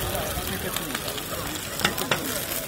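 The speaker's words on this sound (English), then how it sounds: "That sound you can hear is the wonderful sound of an Australian barbecue." Veggie burgers frying on an Australian barbecue at a university gathering, a steady dense sizzle with small pops and crackles, close up, with voices murmuring underneath.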